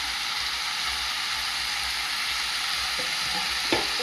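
Malabar spinach, potato and pumpkin sizzle steadily in a hot pan, a dense, even frying hiss with a faint stir or scrape near the end, no voices.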